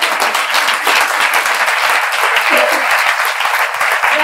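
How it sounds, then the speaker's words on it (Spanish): Loud, close applause from an audience at a university literary evening, dense, continuous clapping that stays strong for several seconds with a faint murmur of voices beneath. "Por favor, aplausos."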